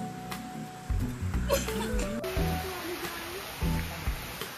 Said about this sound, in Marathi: तर मित्रांनो तर फुल धबधबा आहे